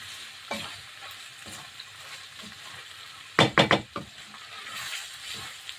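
Meat sizzles in a pan as Ilocano igado cooks, a soft steady frying hiss broken by a quick cluster of loud scraping, clattering stirs against the pan, close up.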